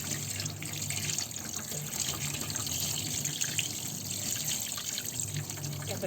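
Water runs steadily from a tap while fresh, unfrozen mackerel is cleaned at a kitchen sink, a soft constant splashing hiss at low volume with no clear talk.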